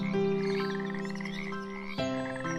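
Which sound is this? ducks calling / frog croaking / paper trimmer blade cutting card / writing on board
frog croaking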